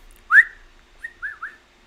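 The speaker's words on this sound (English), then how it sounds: "I got to stop whistling, dude." A person whistles alone: one sharp rising note, then a short pause and three quick sliding whistled notes, fairly close and clear against a quiet background.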